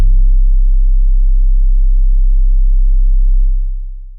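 A synthesized trap soul bass note built from scratch, one long deep sustained tone held steady and loud for about three and a half seconds before fading out, heard alone.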